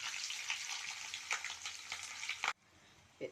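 Onion and green chillies hit hot oil already crackling with curry leaves, setting off a loud, busy frying hiss with scraping stirs that suddenly drops to quiet near the end, with no voices.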